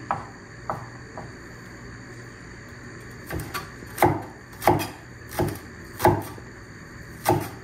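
A banana flower is cut slowly with a knife: about eight separate sharp chops with uneven gaps, the first few lighter and the later ones heavier, each landing with a thud on a board. Close and quiet, with no talk.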